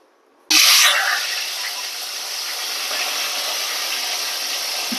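Water rushing and hissing steadily as it drains off washed taro stems, starting abruptly with a loud gush and then settling into a continuous close spray with no talking.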